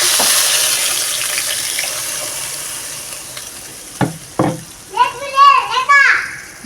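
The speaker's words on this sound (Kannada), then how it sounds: "ಈಗ ಒಗ್ಗರಣೆ ಹಾಕ್ಬಿಡನ್ರಿ." Spices are tempered in hot oil for a home-cooked dish, giving a steady sizzle with a few sharp crackles. Children's voices and chatter rise over it toward the end.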